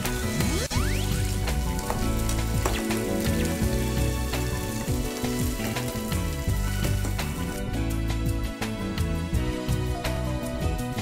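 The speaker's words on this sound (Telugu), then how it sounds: "సో ఇప్పుడు ఇందులో ఒక 2 గ్రీన్ చిల్లీస్ వేస్తున్నాను" Green chilies torn into frying ginger garlic paste in oil for bottle gourd kofta curry, a dense continuous sizzle with crackling spatters throughout, close and fairly loud, no voices.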